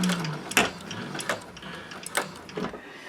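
A Techsew 4800 Pro sewing machine back stitches in several short mechanical bursts of needle clatter with gaps between them, fairly quiet and close, no talking.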